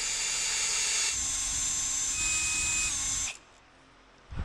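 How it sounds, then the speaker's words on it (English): A high, steady whine of a power drill running close by for about three seconds, then cutting out to a faint hiss before a brief rumble returns. "Now, I still need to drill it out"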